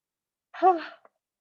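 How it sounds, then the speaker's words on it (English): A single short, breathy yawn with a rising and falling voiced tone, ending in a small click, close and fairly quiet. "Sorry for the big yawn."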